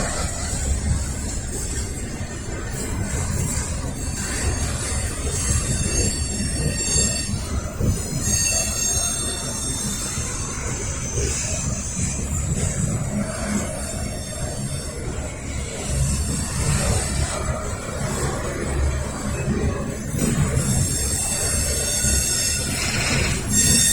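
A Norfolk Southern trash and intermodal train rolls off the connector from Montview, its wheels squealing in high, wavering tones over a steady rumble. The noise is loud and continuous throughout, with no voices.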